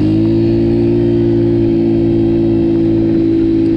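Steady, loud buzzing drone of a tuned enduro scooter engine while riding, held at an even pitch throughout with no speech.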